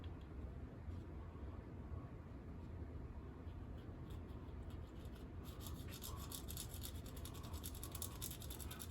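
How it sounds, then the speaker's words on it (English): The side of a toothpick burnishes bare metal foil back and forth across raised emblem letters, making a close, continuous soft rubbing and scratching with faint crinkly ticks that sharpen toward the end. "So I'm kind of burnishing it with the side of the toothpick here, just back and forth across the letters."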